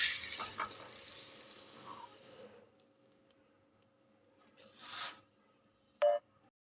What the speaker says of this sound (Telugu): ఇవి వేయించుకుందాం కొద్ది కొద్దిగా.